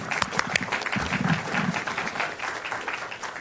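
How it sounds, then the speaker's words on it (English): Applause from an audience at a Fort Worth public meeting, given on behalf of the transportation department: a short, steady burst of many hands clapping at moderate distance, fairly faint in a large room. "give you a round of applause"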